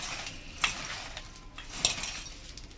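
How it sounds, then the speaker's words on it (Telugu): Spoon clinking against a bowl while stirring a puffed rice mixture with tomato juice, two light metallic taps standing out over soft scraping, fairly quiet and with no talking. "ఇలాగా బాగా కలుపుతూనే ఉండాలి"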